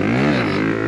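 A motorcycle engine revs hard up close, loud and rising in a strong continuous surge with no voices over it, as the rider pushes for a wheelie.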